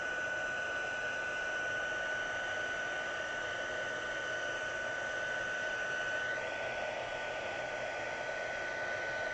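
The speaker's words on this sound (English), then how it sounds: "you don't want to put your finger where the heat tool is because it burns" A heat embossing tool blows hot air in a steady, loud whoosh that lasts the whole stretch, with a constant motor whine and only a slight change in pitch partway through.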